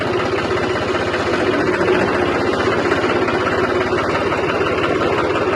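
A tractor engine idles during a wheat harvest near the Indo-Pak border, a loud, close, steady low rumble with a constant vibrating chug and no pauses.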